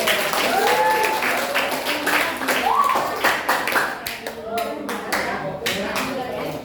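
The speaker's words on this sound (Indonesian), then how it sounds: "Tepuk tangan dulu untuk teman-teman" Classroom group clapping for classmates after a lesson, a steady wash of hand claps with children's voices and shouts mixed in throughout.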